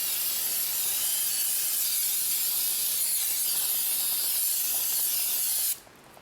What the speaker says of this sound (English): So I'm gonna get some brake clean.